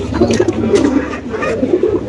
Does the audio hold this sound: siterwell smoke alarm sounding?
no